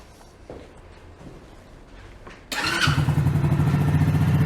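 A Champ CM50 50cc geared motorcycle engine fires up abruptly partway through and settles into a loud, steady idle after a quieter stretch of faint shuffling.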